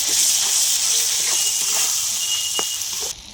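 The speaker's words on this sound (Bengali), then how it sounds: "লাল গুঁড়ো লঙ্কা দিয়ে দিলাম, আদা রসুন দিয়ে দিলাম বাটা। ভালো করে কষে নেব।" Red chili powder and ginger-garlic paste sizzle in hot oil while a prawn and banana-flower curry is cooking, giving a steady close hiss that stays loud throughout, then drops slightly right at the end.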